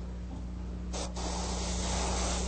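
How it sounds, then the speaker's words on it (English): An Iwata HP-C airbrush sprays paint through a stencil onto custom automotive graphics, giving a soft, steady hiss that runs close and continuous with a brief pause partway through. "Using my HPC Iwata, I'm going to spray the"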